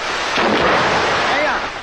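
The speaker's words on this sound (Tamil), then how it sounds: "இப்ப வெடி வெடிச்சதே அந்த சத்தம் கேட்கலையான்னு கேட்டேன்." A firecracker goes off in a single loud, sharp blast that trails into a short rumbling decay, heard close by with no talking over it.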